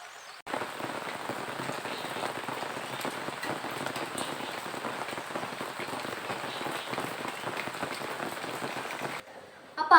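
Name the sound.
rain starting to fall outdoors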